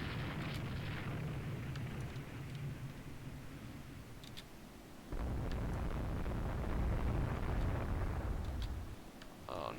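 Torpedoes launching during a Rule the Waves 2 naval battle as a heavy, rumbling low boom swells midway and holds loud for several seconds, with wind-like noise and scattered high pops throughout.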